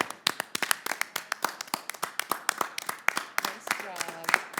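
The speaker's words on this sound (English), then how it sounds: "I think we should give them a round of applause." A small room at a park board meeting breaks into a round of clapping, a handful of distinct hand claps rather than a dense roar, close and fairly quiet, with brief murmured talk near the end.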